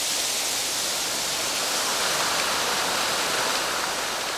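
Powerful water rushes continuously through the fountains and channels of a Mediterranean garden, a dense, even roar with no voices, close and loud throughout.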